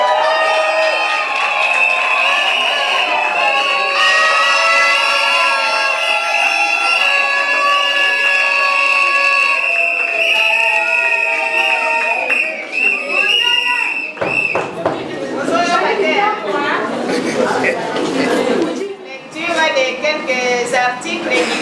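At a combined civil and customary wedding, a crowd breaks into applause and cheering for the couple, a broad burst of clapping and voices that swells in after a stretch of sustained music.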